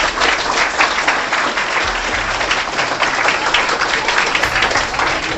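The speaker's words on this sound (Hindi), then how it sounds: "इन बच्चों के लिए एक बार जोरदार ताली होना चाहिए" Loud, continuous applause from an audience clapping for students at an interview round, dense and steady across the whole stretch without a break.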